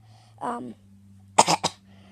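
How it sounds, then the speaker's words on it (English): One short throaty sound, then a quick burst of two or three loud coughs close to the mic, with a low steady hum underneath. "sorry about me coughing"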